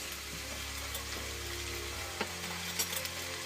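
Ragu sauce sizzles and bubbles in a pan as it is stirred, a steady soft frying hiss with a few light clinks of the utensil toward the end, no voices.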